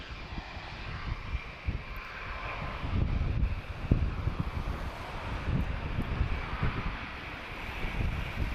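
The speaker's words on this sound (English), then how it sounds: "So the wind is really picking up" Wind blows hard at Lisbon Airport at night, buffeting the microphone with a steady roar and gusty low thumps. A faint, distant aircraft drone may sit underneath.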